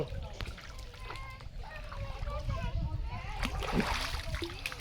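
Water splashes and sloshes as someone ducks under in a village pond, close and moderately loud, broken into irregular bursts with people talking throughout.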